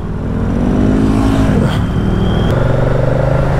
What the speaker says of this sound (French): Le son du moteur, vraiment sympa.